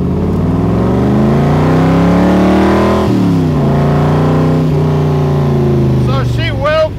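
A 1965 Shelby Cobra Kirkham's engine rumbles loudly through its side pipes, holding a steady, throaty drone with pitch dips and rises as the throttle is worked, while someone talks over it throughout.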